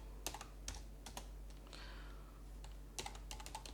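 Typing on a computer keyboard while preparing a notarial archive inventory table, with scattered bursts of quiet keystrokes and short pauses in between over a steady low hum.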